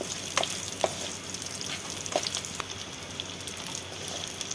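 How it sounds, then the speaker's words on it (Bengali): Fried potatoes being stirred in a pan with onion give a steady soft sizzle broken by light clinks and scrapes of a spoon against the pan, close and fairly quiet. "আলুগুলো দিয়ে আরও একটু আমি নাড়াচাড়া করে নিলাম"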